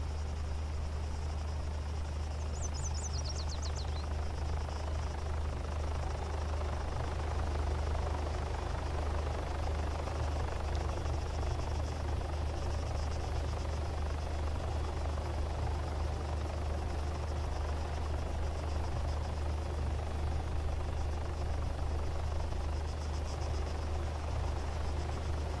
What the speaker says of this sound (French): Hélicoptère. Dis-moi pas qu'ils ont envoyé un hélicoptère pour me trouver.